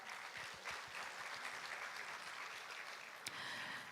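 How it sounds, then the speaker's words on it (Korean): An audience applauds at the opening ceremony of the 9th Chungcheongnam-do international carbon neutrality conference: steady, dense clapping from a crowd heard at a slight distance, sustained throughout at a faint, even level. "여러분 다시 한 번 더 큰 박수 부탁드리겠습니다."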